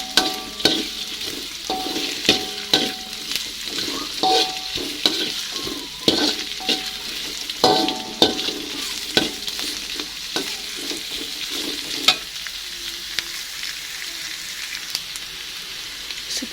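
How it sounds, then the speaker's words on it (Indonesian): Onions and garlic are stir-fried in a pan with a steady close sizzle broken by frequent sharp scrapes and taps of a spatula. The rhythm is busy and irregular, easing off toward the end. "Ini ditumis sampai tercium bau harum"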